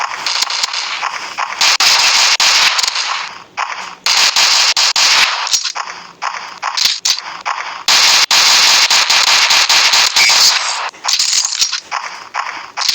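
Rapid bursts of gunfire from a Special OPS shooting video game crackle loudly in long automatic strings, broken by short pauses, with no voice over them.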